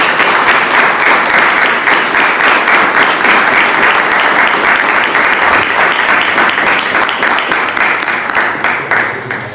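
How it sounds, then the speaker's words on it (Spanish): Dense applause from a congregation gathered for a talk by a priest, loud and close, a thick rapid patter of many hands that holds steady before thinning and fading at the end. "Un aplauso."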